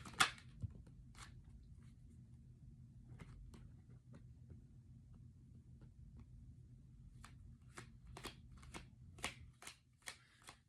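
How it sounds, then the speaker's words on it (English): A deck of cards being reshuffled close up, with a series of quick crisp riffles and snaps, sparse at first and then coming in faster bursts over a quiet background. "I kind of like to put them back in the deck and reshuffle here."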